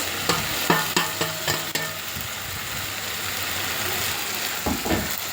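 Grated coconut stirred into shark skin frying in a pan, with a steady sizzle, a run of sharp spoon scrapes and clinks early on, then calmer frying with a couple more stirs near the end.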